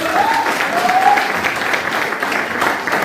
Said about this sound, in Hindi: तो एक बार देवेंद्र जी में जोरदार ताली होनी चाहिए।